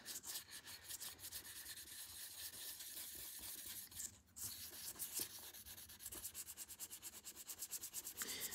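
Steady, close rasping strokes of 600 grit sandpaper rubbing over a Samson block plane during a tool restoration, continuous for the whole stretch with a brief dip near the middle.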